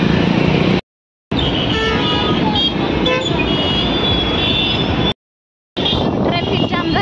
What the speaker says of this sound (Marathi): हे बघा बारामतीतली ट्रॅफिक कसं जाम झाले